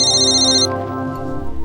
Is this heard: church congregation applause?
no